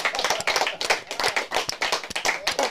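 A few people clap close by in sharp, separate, fairly rhythmic hand claps, quiet overall and with no voices over them.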